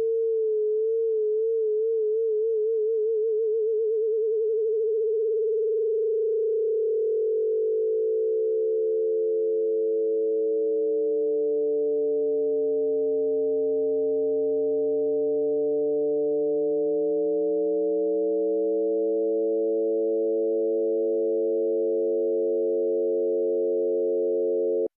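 One sustained synthetic tone begins perfectly steady, then slowly widens into a deep, wavering vibrato. It holds at an even level throughout with no other sounds.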